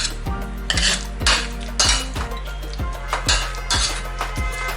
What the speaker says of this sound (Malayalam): ഒന്ന് മാഷ് ചെയ്ത് എടുക്കാം.